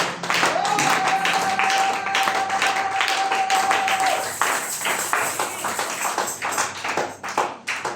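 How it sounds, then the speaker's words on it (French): A church congregation claps for God, loud, steady, rhythmic applause from a crowd filling the room throughout, with a voice and a sustained musical tone carrying over it. "Acclamez très fort le Seigneur. Let's clap for our God."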